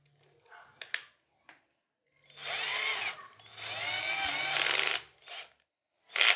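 An INGCO cordless drill runs at its lowest speed setting, giving two steady whirring bursts of about a second and a half each, preceded and followed by short clicks and handling knocks, close and alone.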